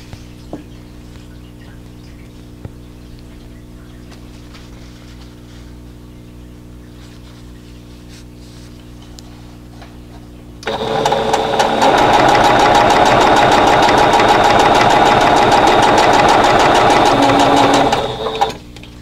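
A sewing machine chain-pieces quilt block pieces, starting after a stretch of quiet room hum and then running in a steady, loud, continuous whir for about seven seconds before stopping.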